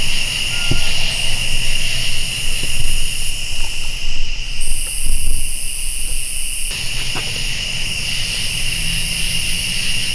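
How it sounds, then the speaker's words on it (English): Crickets chirp steadily outdoors at night in Evergreen Park, Huntington, Indiana, a dense high-pitched insect drone that fills the whole stretch, loud and continuous with faint low rumbles beneath. "I think I'm gonna go nuts from just hearing crickets"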